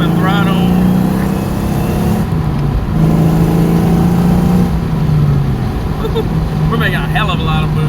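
A 1998 Ford Mustang Cobra with a Kenne Bell supercharger on a stock block, revving under boost. The loud engine rises and falls in pitch through two surges while someone talks over it.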